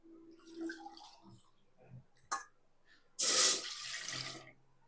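Water is measured out with a small vessel and poured in a short burst into a pot for gulab jamun syrup, after some quiet clinks and handling noises, then trickles and splashes briefly.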